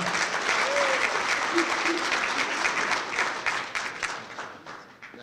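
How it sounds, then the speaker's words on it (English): At a high school football banquet, the audience applauds the school principal with dense, sustained clapping that rolls on for several seconds before thinning toward the end, with a few voices mixed in. "Dr. McCann, clap it up for our school principal."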